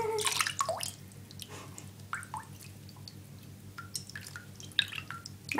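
A pet budgie bathing, with irregular water drips and small splashes scattered throughout, fairly close and soft, and a brief fluttery burst at the start.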